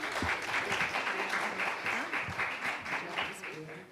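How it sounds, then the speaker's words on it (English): Audience applause at a conference panel session, a steady wash of many hands clapping for about four seconds, fairly loud and continuous, with faint voices mixed in underneath. "Everyone give them a round of applause."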